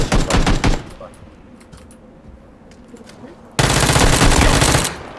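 Rapid automatic gunfire from a first-person shooter video game, loud bursts at the start and a sustained heavy barrage near the end, separated by a quieter stretch.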